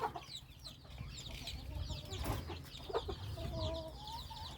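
Several yellow-strain junglefowl hens cluck in a busy farmyard, with overlapping bird calls and a steady low background hum throughout.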